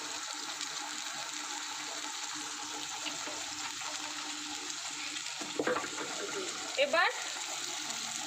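Water used to rinse the spices is poured into fish curry masala frying in oil. A low sizzle is broken by two short gushing splashes, and a voice speaks a brief word.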